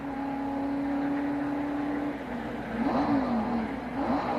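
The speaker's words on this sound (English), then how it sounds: "Okay, rev it up here a time or two." A race car engine at the 1990 Miller Genuine Draft 500 idles with a steady droning tone, then is revved a couple of times, its pitch rising and wavering in short bursts, loud and close with no talk.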